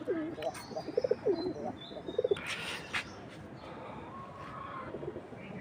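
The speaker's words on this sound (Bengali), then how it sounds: "আগে কবুতরগুলো একটু ছেড়ে নিই বাহিরে।" Pigeons kept by a hobby fancier call outdoors as they are released from their loft to fly, giving a few short coos and chirps early on over steady background noise, with faint voices in the distance.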